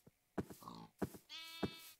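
Short nasal grunts and bleating calls from a farm animal in a video game come in several separate bursts, moderately loud and close, with no talk over them.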